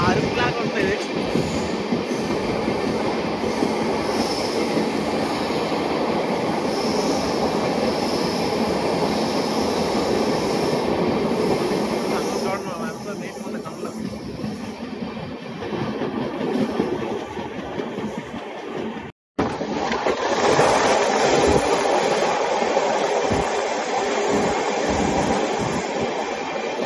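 A long-distance train from Vizag to Delhi, heard from inside a general coach, rumbles loudly and steadily with clattering wheels on the rails, and the sound shifts as it passes through tunnels.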